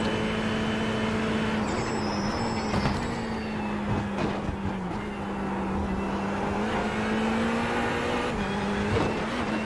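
A Ferrari 488 GT3 EVO racing at Le Mans in the iRacing simulator, its engine a steady, loud drone that holds pitch with slight dips on lifts, continuous with no one talking.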